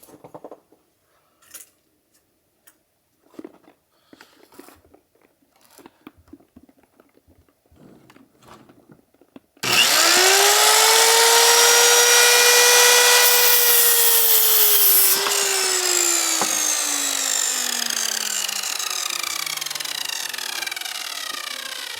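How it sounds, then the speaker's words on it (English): A power chop saw bites into wood for rustic log bunk beds in a cabin, starting with a sudden loud whine that holds steady and then slowly winds down, after some quieter handling and knocks. "it's able to push my chop saw"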